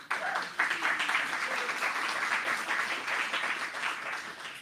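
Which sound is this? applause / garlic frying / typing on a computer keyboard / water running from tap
applause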